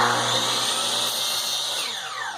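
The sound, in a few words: DeWalt DW715 miter saw cutting a piece of trim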